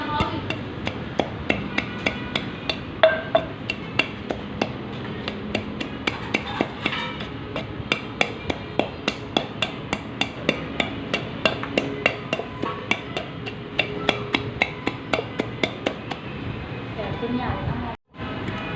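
Chutney ingredients such as seeds and ginger are pounded in a stone mortar and pestle, a steady rhythm of sharp, close knocks repeating throughout, with someone talking over them.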